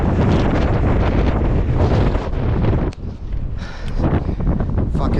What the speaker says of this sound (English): It's very windy, guys, I'm sorry.